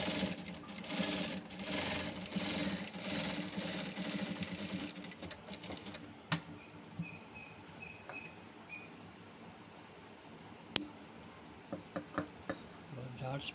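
A sewing machine stitches thread piping with a fast, steady buzzing whir for about six seconds, then stops and leaves quieter scattered clicks and handling sounds nearby.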